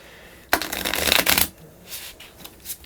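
Loot cards for the Heroes of Barcadia board game are shuffled in one quick riffle, a crisp burst of close, dense flutter lasting about a second, followed by softer handling taps.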